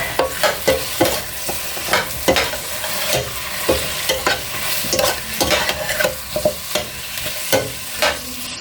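A spoon stirring seasoned mung bean stew in a cooking pot: repeated scraping strokes at a steady rhythm against a constant sizzling, bubbling bed, close and fairly loud, with no voices.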